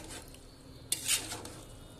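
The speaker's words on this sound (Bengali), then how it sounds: "এবার আমি ভালোভাবে নাড়বো" Khichuri stirred in a cooking pot on a rainy day, soft scraping and a couple of clinks from a utensil against the pot over a faint background hiss, no talk.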